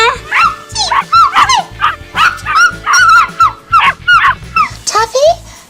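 A toy puppy yips, barks and whimpers in a rapid, high-pitched run of electronic sounds, close and loud, with a low thumping beat underneath throughout.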